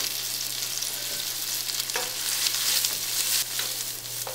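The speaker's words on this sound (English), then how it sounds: "Now give it a nice mix." Onions with cumin seeds and peppercorns fry in a pan, a continuous close sizzle broken by a few scraping stirs of a spoon, with no one talking.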